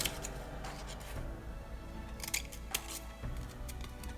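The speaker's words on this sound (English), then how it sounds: "The next one, we're gonna cut a petal off." Scissors cutting a petal off a flower shape for a homemade rose highlighter, a few faint close snips over steady room hiss.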